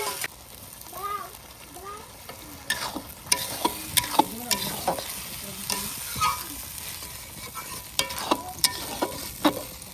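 Spices frying in a pan with coriander leaf paste and whole garlic, a continuous sizzle broken by sharp scraping and stirring clatters, with a voice talking faintly underneath at times.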